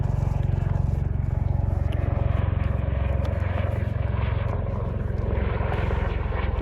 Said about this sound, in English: The helicopter about to go by us at eye level.